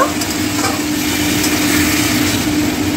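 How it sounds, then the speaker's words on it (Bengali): Mutton curry masala sautéing in a pan with a splash of water added, giving a steady close sizzle and hiss with stirring scrapes throughout, no voices. "এর মধ্যে একটু জল দিয়ে দিচ্ছি যাতে মশলাটা পুড়ে না যায় এবার খুব ভালোভাবে এটাকে কষিয়ে নেব"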